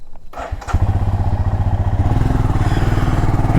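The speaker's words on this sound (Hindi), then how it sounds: "तो पहले अपनी बाइक स्टार्ट कर लेते हैं।" A Royal Enfield Himalayan motorcycle is started up: a brief crank, then the engine catches and settles into a loud, close, steady thumping idle.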